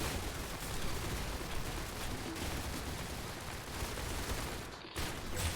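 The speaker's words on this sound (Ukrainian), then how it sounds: "Полуавтоматична гвинтівка" Rapid semi-automatic rifle fire in a Roblox shooter game, a dense, loud barrage of shots that keeps up almost without a break, with a short gap near the end.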